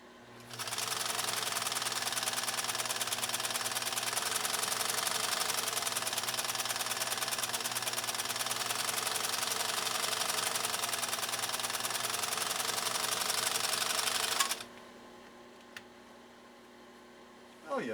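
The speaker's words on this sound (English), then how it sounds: "our final decorative stitch off on Heidi's 332" A PFAFF 332 sewing machine running a decorative stitch, a loud, steady mechanical whirring hum that runs without break for about fourteen seconds, then stops abruptly, leaving a faint click and quiet.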